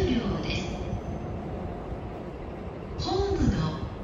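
An E233 series electric train arriving at Musashi-Kosugi station on the Sotetsu through line, a low rolling rumble with faint squealing brake tones, mid-distance, under a platform announcement voice.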